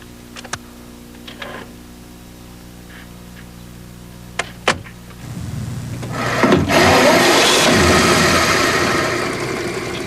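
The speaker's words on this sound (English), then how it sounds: "That V8 engine runs as smoothly and idles as evenly as it did the day it was built" A 53-year-old Lincoln V8 engine cranks with a few sharp clicks, catches, revs briefly, then settles into a steady, even idle close by.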